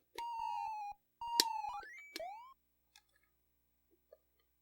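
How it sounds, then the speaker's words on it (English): Electronic alarm beeping from the Commodore 64 game Livingstone, I Presume?, with two long sustained tones and sharp rising chirps, followed by a few faint short blips before going quiet. "I don't know why sometimes that alarm doesn't clear even when you go to a new level."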